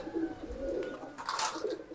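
Racing pigeons cooing softly in a breeding loft, a few low murmuring coos at close range with some faint rustling.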